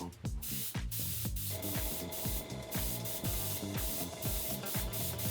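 An airbrush spraying paint sputters intermittently, giving rapid, uneven bursts of hissing air and spitting paint in a steady stuttering rhythm, close up and alone.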